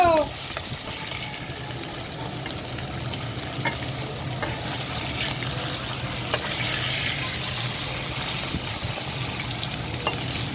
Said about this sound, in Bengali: আমি মাছ কিন্তু ভেজে নিচ্ছি অল্প করে, মানে হালকা করে